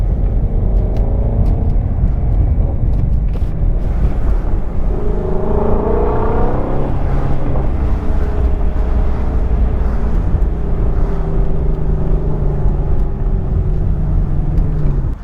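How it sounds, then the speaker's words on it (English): Shelby GT350 with the Voodoo V8 engine running close and loud, a steady deep rumble with a rise and fall in pitch as it revs, heard alone with no talk. "Maybe I should shut up and let you guys listen to the engine."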